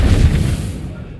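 Incendio fire spell cast in a wizarding video game, a short heavy booming burst of flame with a deep rumbling body that fades out within about a second.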